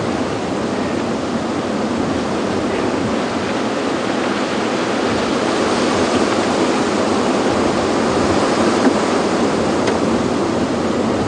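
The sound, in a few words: wind blowing on safari drive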